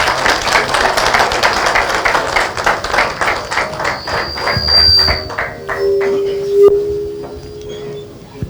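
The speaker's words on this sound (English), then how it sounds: "Let's give her a big round of applause." An audience at a state consultation on the protection of children with disabilities gives a loud round of applause, many hands clapping in rapid bursts that thin out and fade to a few scattered claps.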